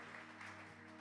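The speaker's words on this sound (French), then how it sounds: "Oh, vos acclamations me dérangent un peu." Steady, dense applause from a church congregation fills the whole second, with a low hum beneath and no voices standing out.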